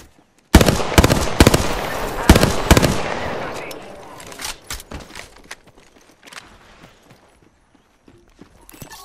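Gunfire in the video game Apex Legends, with a sudden loud burst of rapid shots followed by scattered sharper cracks that fade into quieter intermittent pops.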